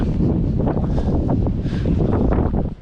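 Strong, cold gusts of wind buffet the microphone in a continuous, blustery rush at Tacking Point, rising and falling slightly with no voices.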